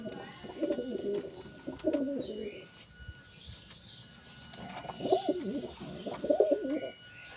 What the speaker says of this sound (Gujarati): તો જો ગાઈસ અમારા કબૂતર છે